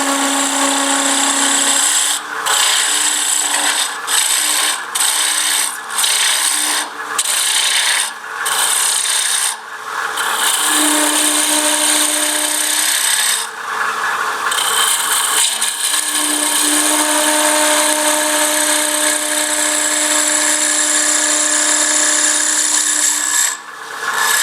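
A spindle gouge cutting a wooden Christmas ornament on a lathe, a loud continuous rasping scrape with repeated brief pauses as the tool lifts off and returns to the spinning wood, close by.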